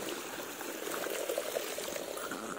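Cold spring water runs steadily outdoors, a continuous broadband pouring and gurgling rush, close and moderately loud with no talking.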